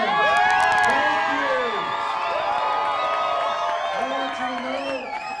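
Election night crowd cheering and whooping loudly and steadily, with shouts, some clapping and many overlapping voices filling the space throughout.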